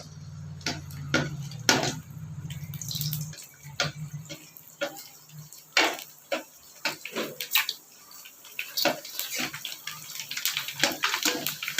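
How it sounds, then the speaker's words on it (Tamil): Ready-made pani puri fry in hot oil with scattered sharp pops and crackles. A low steady hum runs under the first few seconds, then the irregular sizzling bursts continue on their own at moderate loudness. "காஞ்ச உடனே நம்ம வந்து ரெடிமேட் பானிபூரி வந்து வறுத்து எடுத்துக்கலாம்."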